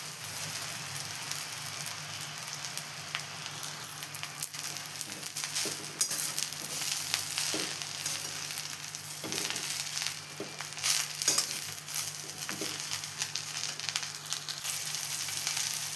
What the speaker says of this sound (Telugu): ఒక స్పూను ఆయిల్ వేసాను ఇది కొంచెం వేడైన తర్వాత బాండీ దీంట్లోకి ఇలా కొంచెం కొంచెంగా వేయించుకోవాలి దీన్ని